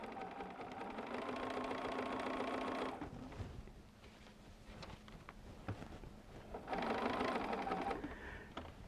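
A sewing machine stitches a Christmas stocking, running in a steady loud whir for about three seconds, pausing with quieter handling noises, then starting again near the end.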